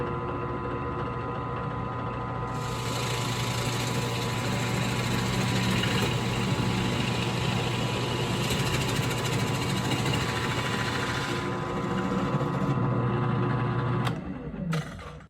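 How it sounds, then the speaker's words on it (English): A power drill bores holes through maple plywood for a custom cabinet, a continuous close motor whine held steady and slow for about fourteen seconds before winding down. "So let's drill this hole, double check that I'm still lined up with the spot."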